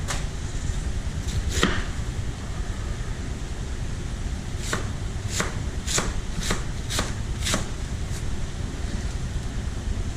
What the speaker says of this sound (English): It's the quickest way to core lettuce.